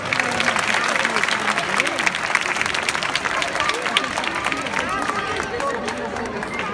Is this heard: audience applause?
yes